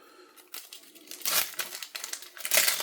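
Pokemon trading card booster pack foil wrappers torn and crinkled open by hand, bursts of sharp papery crackling and tearing that start quietly and grow louder and closer, with no voices.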